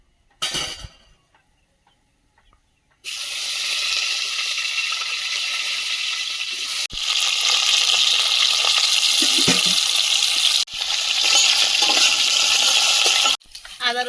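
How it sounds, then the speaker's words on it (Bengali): Potatoes fry in oil in a fast-heating iron wok. After a few quiet seconds with faint handling, a loud, steady, close sizzle sets in and continues in long bursts, broken by brief clatters of stirring. "তেল দিয়ে দিচ্ছি আলুটা আগে ভেজে নেব"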